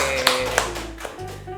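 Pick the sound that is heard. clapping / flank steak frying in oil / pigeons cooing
clapping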